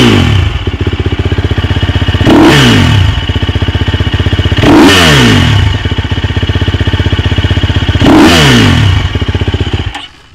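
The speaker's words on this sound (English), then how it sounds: "we're going to give it a big, healthy rev up to about around third to a half throttle" A motorcycle fitted with a Rekluse auto clutch sits in neutral and revs loudly and close up, the engine note swelling three times in a steady rhythm before dropping away, with no talking.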